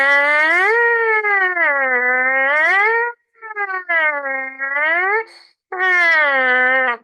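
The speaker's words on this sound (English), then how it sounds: "the siren buzz, where I just go up and down" A trumpet siren buzz: a buzzy, harmonic-rich tone sweeping slowly up and down in pitch, played loud and close in three phrases with a short break in the airflow partway through.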